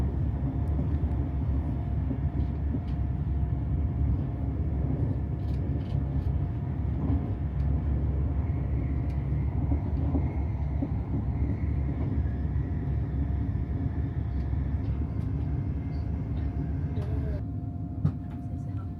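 A classic KCR train rolls on rails between Xintang and Xiayuan stations near Guangzhou, slowing down; a steady, loud low rumble fills the whole stretch from start to finish with no talk.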